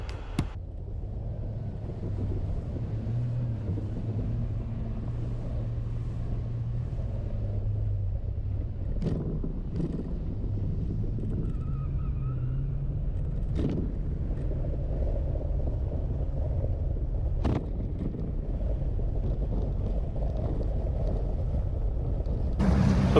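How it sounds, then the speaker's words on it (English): A Ranger Alpha 208 fiberglass fishing boat drives across the water, its outboard engine holding a steady low drone under wind buffeting the microphone, with occasional thumps and knocks from the hull. "The Ranger Alpha 208 is just a fun boat to drive."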